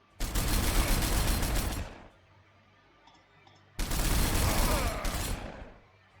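Bursts of gunfire in the Warhammer 40,000: Sanctus Reach strategy game, two loud dense volleys of roughly two seconds each with a quiet gap between them and no talk.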